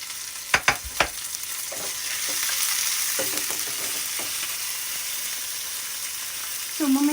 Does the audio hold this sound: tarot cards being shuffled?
no